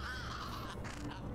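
A crow in the video game Little Kitty Big City gives a short, harsh caw close by, a single raspy burst lasting about a second.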